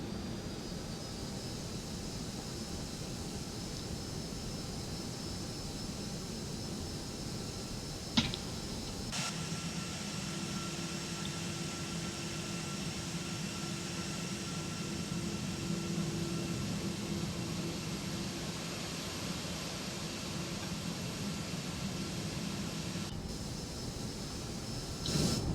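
Simulated Airbus A321 jet engines in X-Plane 12 hum at a steady low drone with a faint high whine while spooling up for taxi, with a couple of brief clicks and no voices.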